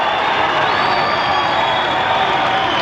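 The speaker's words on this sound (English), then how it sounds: "scores a bucket. The crowd erupts" A packed arena crowd at a 1996 NBL basketball game between the Gold Coast Rollers and Perth Wildcats roars in a dense, steady wall of cheering and applause after a basket.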